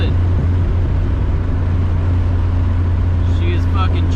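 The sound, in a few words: Honda Civic engine running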